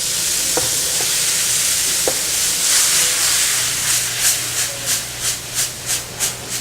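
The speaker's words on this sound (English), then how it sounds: "we just want to cook down the tomatoes a little bit, infuse it with all the flavors of the garlic and the basil" Tomatoes with garlic and basil cooking in a pan give off a steady loud sizzle and hiss, with a spoon stirring in a rhythmic series of scraping swishes near the end.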